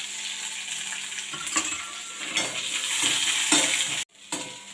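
Chopped onions hit hot oil with dried chilli and five-spice, giving a close, steady sizzle with stirring scrapes, then a brief dropout and a metallic clink near the end.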